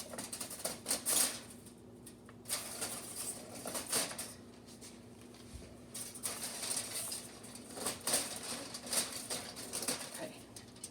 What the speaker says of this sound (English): Now I'm just going to go through with the scissors